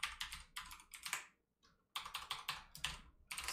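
Keys on a computer keyboard are typed in quick bursts during an Arch Linux install, with clicky strokes coming in clusters separated by a short pause. The sound is close but quiet.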